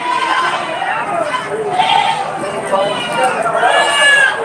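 Goats, including a male of upgraded breed, bleat repeatedly over a busy background of people talking at a goat market in Padre Garcia, Batangas, the calls fairly close and loud, overlapping with the chatter.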